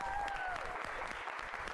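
Steady applause from a crowd, dense clapping throughout with a faint whistle-like tone near the start.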